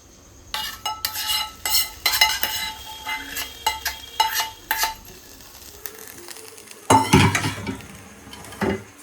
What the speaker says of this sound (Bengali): এই ফোড়নটা এতে দিয়ে দিতে হবে